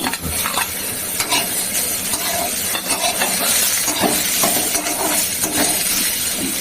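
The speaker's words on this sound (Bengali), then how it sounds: "এবার টমেটো দিয়ে দিচ্ছি" Tomatoes hitting a hot pan of frying khaira fish and kundru, a loud close sizzle broken by stirring scrapes and light clinks of a utensil against the pan.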